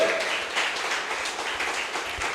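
A church congregation applauds with a dense, steady patter of many hands clapping at once, sustained and moderately loud without a break.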